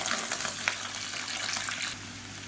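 Small cut pieces of raw plantain hit hot frying oil, setting off a loud, dense hiss of bubbling oil that continues steadily and eases slightly at the end.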